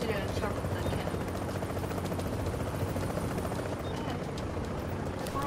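A helicopter in Tom Clancy's The Division's Dark Zone gives a steady, continuous chopping drone throughout, with a voice talking over it.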